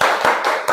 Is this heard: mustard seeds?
no